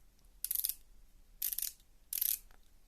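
Ratchet clutch of a precision micrometer clicking as the thimble is tightened against a lighter, three short bursts of rapid clicking separated by pauses, close and fairly faint.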